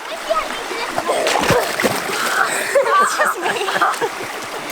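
Splashing as a person jumps into shallow water, a loud burst of splatter with ongoing water churn and people talking and laughing nearby.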